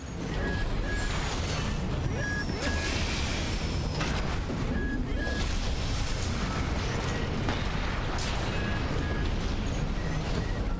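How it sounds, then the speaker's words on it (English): Grenade cannon fired from the left shoulder of a mech in Armored Core VI, a loud, dense run of booming blasts and crashing impacts that fills the whole stretch without a break. "I want to use a grenade cannon."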